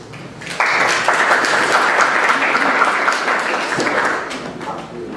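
Audience applause for a distinguished guest speaker at a US election debate event in Sofia, a broad, steady wash of many hands clapping that starts abruptly and holds loud before easing toward the end.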